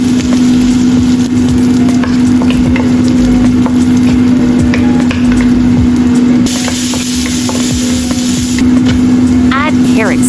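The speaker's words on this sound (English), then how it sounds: "Stir-fry dried shrimps until fragrant." Dried shrimps stir-fry in a hot pan with a loud, continuous sizzle and hiss, broken by scattered scraping clicks of a utensil and a steady hum underneath.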